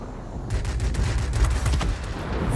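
Aircraft guns fire in the World of Warplanes combat game in rapid, loud bursts of machine-gun fire that rattle on almost without pause.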